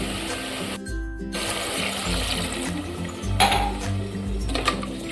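A glass of water is poured into a pressure cooker of Guntur-style spicy gongura mutton with coriander, splashing amid a low background hum and light metallic clinks.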